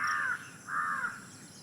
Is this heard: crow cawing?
yes